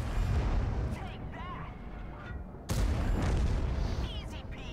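A tank gun fires in World of Tanks, a heavy booming blast followed by rumbling decay, with a second sharp boom striking midway through the battle din.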